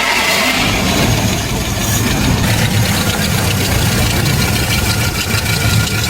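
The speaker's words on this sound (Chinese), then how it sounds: "把车打着，咱们调一调怠速" A car engine runs at a steady, fairly loud idle after being started, following a fuel line cleaning and reinstallation, a constant mechanical drone with no talking.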